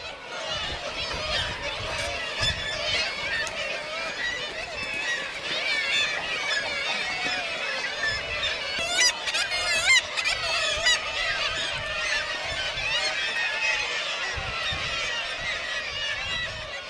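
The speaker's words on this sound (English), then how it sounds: "regarding sheer noise, the seagulls are unbeatable anyway" A dense crowd of seagulls calls and squawks continuously, a loud overlapping chorus of shrill cries filling the whole stretch without pause.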